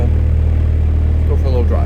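A Nissan S13 hatch, Type X, with its engine idling roughly as it warms up after sitting undriven for a while: a steady, low, continuous rumble lasting about two seconds, close to the microphone, with faint voice-like sounds near the end.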